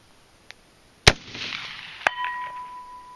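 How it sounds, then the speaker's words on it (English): An AR-15 rifle fires at a distant target roughly 250 yards out in an outdoor mud-test setting: a faint tick, then one loud sharp report, then a second sharp crack about a second later with a brief ringing tail. "We're going to shoot at the far one now."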